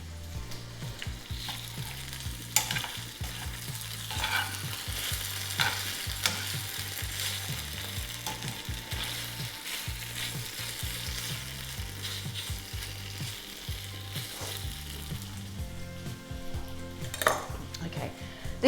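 Tofu frying in a pan for gado gado, a constant loud sizzle with occasional stirring scrapes and utensil knocks against the pan, continuing without talk.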